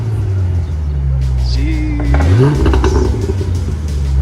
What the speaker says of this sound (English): I have the Pypes Violator Xpipe exhaust